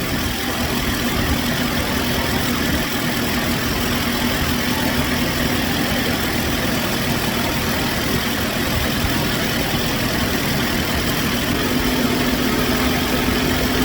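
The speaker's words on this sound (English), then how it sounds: "Now we just squeeze it in, let the compressor suck it in." A 2008 Nissan Rogue idles with a steady, unbroken drone while its A/C compressor draws in refrigerant from a can, loud and even throughout.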